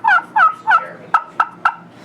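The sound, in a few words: turkey call imitating hen clucks and purrs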